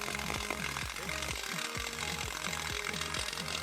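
Flux-cored or MIG arc welding on steel in the flat (downhand) position, giving a steady loud crackling buzz with continuous sputtering throughout.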